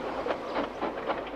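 Train sound effect for a wooden toy railway story about the breakdown train, a steady rhythmic rumble with repeating clickety-clack pulses, moderately loud and continuous with no talking.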